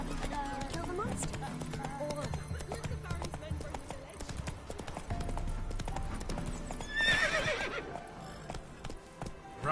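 In The Witcher 3 video game, a horse's hooves clip-clop in a rapid gallop, and a loud neigh rings out partway through, with a voice and game sounds mixed in.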